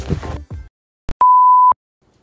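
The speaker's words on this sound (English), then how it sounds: "my phone literally just shut down because it was too cold out here" A phone shutting down in the cold gives a short blip, then a single steady electronic beep of about half a second, loud and clear after a brief burst of talk.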